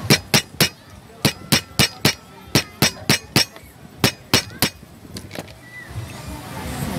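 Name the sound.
cracking hard shellfish shell with a small wooden stick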